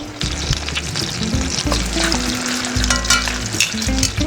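Lamb shanks sear in a hot pot with a loud, continuous close sizzle and crackle, broken by occasional scraping stir sounds and sharp spits of fat.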